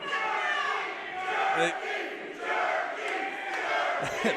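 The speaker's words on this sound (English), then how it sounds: "Crowd chanting jerky." An indoor wrestling crowd chants in rhythmic unison at an independent wrestling show, loud massed voices rising and falling in repeated cadence with scattered shouts.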